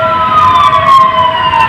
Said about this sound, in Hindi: अब ये देखो, ये एम्बुलेंस जा रही